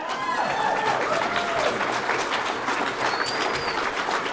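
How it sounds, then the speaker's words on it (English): Dense applause from a crowd at a political event in Florida, steady and continuous throughout, with a few faint voices calling out beneath it. "You applaud because you understand it"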